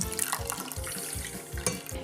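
About 220 g of water pours in a steady splashing stream into a small saucepan nearby, with small clinks and gurgles, no talking.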